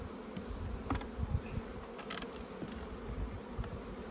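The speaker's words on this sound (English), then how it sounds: "And a frame of feed and honey covered in bees." A dense, steady buzz of many honey bees covering a hive frame fills the recording, close up and continuous, with a few soft knocks and rustles underneath.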